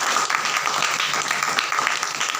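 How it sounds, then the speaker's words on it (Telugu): Audience applause at a Telugu Christian sermon, a steady wash of many hands clapping continuously throughout at moderate loudness, with no voice over it. "చప్పట్లు పట్టండి."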